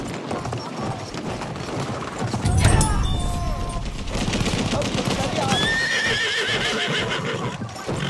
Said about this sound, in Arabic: حصان رماح.